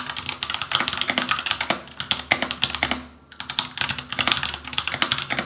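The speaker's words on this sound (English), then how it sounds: "having the brown switch version of the keyboard, I was expecting a quite clicky sound while typing" Typing on a Royal Kludge RK61 60% mechanical keyboard with brown switches: a steady rapid patter of close keystrokes with a brief pause midway, then continued typing, alone with no talk.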